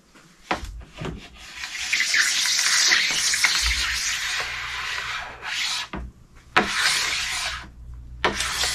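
A scraper drags across a snowboard to strip off wax, making long, loud, close raspy strokes broken by short pauses.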